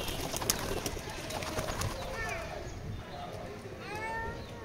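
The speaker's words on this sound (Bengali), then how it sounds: "কবুতরগুলো ছাড়বো।" Pigeons on a rooftop loft give soft, low cooing calls and a few wingbeat-like flutters, heard faintly beneath a voice speaking nearby.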